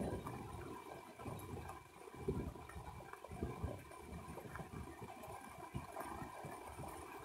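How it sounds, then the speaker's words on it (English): Steady rushing water noise with low rumbling fills the clip, a continuous heavy downpour at a campsite with no voices. "It is pouring down rain."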